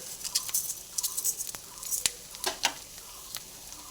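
Tomato masala for echor chingri, with turmeric, chilli powder and sugar, sizzling and crackling faintly in a pan, with irregular small pops and spattering over a soft steady fry.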